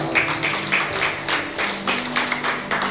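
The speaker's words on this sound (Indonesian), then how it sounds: "Yang setuju tepuk tangan Pak" Church congregation clapping hands during a New Year worship service, a rhythmic, fairly dense patter of hands with a low steady hum from sound equipment underneath.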